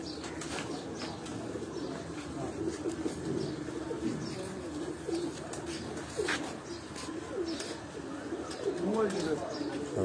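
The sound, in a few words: pigeons on a rooftop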